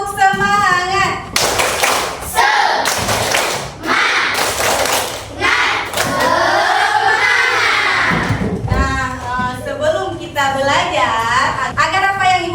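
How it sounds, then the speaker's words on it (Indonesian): Class 5 pupils do a rhythmic spirit clap in a classroom, loud chanting voices alternating with bursts of patterned clapping and thumps, close and energetic throughout. "kita tepuk semangat dulu. Tepuk semangat."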